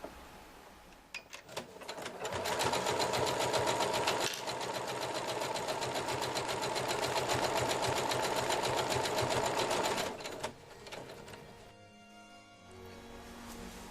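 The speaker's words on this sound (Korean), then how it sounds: "이 스타트 버튼을 한 번만 눌러주시게 되면 단번에 알아서 단축구멍이 완성된 후에 자동으로 정지하게 됩니다" A Story 3030 embroidery sewing machine stitches a buttonhole on its own, running as a steady, loud, rapid mechanical whir for about nine seconds, then stopping with a few clicks as it halts automatically.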